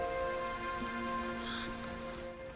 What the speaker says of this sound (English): it's raining so hard